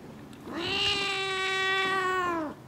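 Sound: frightened kitten crying and meowing

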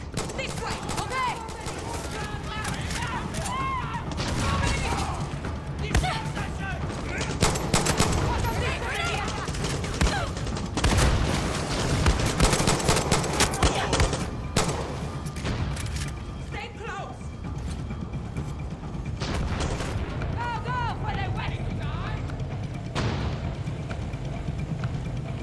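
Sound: gunfire in the video game Far Cry 6

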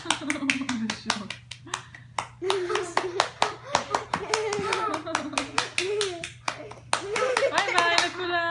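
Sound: hand clapping

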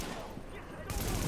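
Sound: M4 rifle gunfire in video game The Division

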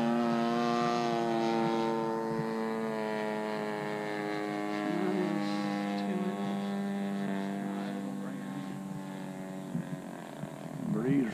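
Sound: large RC airplane Hanger 9 Extra with DLE55 engine

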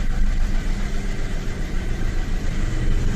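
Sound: Toyota Camry engine starting and idling

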